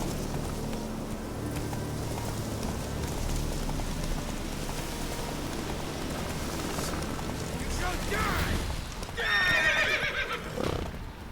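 A horse in The Witcher 3 gallops with a steady, muffled hoof rhythm, then gives a loud, close neigh near the end, over a constant rainy, windy backdrop.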